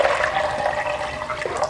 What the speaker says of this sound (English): I'm going to pour this water,